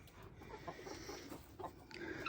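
Chickens clucking on a farm, soft repeated clucks close by over a busy, faint background of other birds and outdoor noise.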